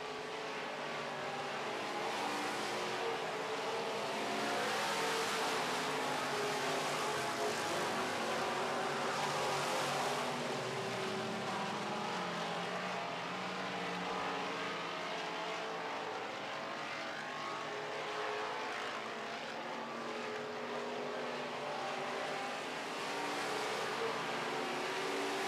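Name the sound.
Midwest modified race cars racing in heat race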